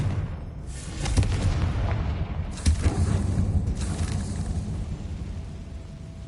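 Deep rumbling booms in Hogwarts Legacy as a Confringo blasting spell explodes, with a couple of heavier blasts over a sustained low roar that slowly fades.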